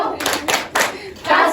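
Children in a classroom clap along to a chant, giving a few loud, close bursts of hand claps in a rough rhythm.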